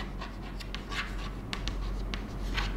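A pen scratches across paper while a maths solution is written out, giving a steady run of short, dry strokes and quick flicks over a low background hum, close up and with no talking.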